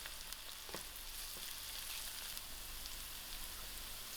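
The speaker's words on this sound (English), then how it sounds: "I'll allow these onions to fry." Onions fry and brown in a pot for a lamb curry, giving a steady, close crackling sizzle with scattered pops that carries on without a break and with no talk.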